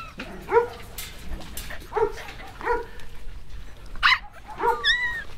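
Dogs at a large farm kennel in Bulacan give several short, sharp barks and yips at irregular intervals, fairly close, with some whimpering tones between them.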